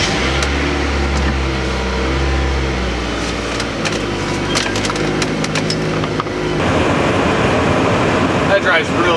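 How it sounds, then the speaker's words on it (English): Interior of a Mazda Miata on a test drive, with a loud, steady low engine and road rumble, rattles and clicks from the cabin, and a shift in tone partway through as the car drives on. "this is so much smoother than my red Miata"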